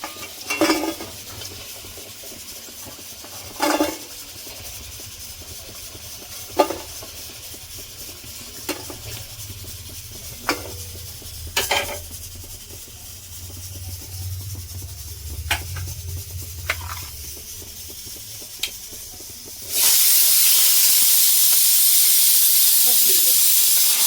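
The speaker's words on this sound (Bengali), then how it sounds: "দেখুন আলুটা লাল করে ভেজে নিয়েছি, তুলে নেব।" Potatoes frying in a pan for aloo posto, a steady soft sizzle and hiss with occasional clinks of a spatula stirring, close up, ending in a louder burst of hissing.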